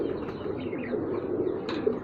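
Rooftop racing pigeons in Amritsar coo in a low, continuous rolling murmur, fairly close, with a brief faint chirp near the end.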